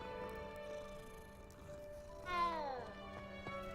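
A cat gives a single short meow that slides downward in pitch, heard over steady electronic game music with sustained tones.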